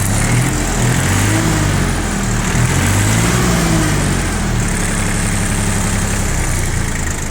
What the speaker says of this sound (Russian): Работает, кстати, трактор именно так, как и должен с данной наработкой.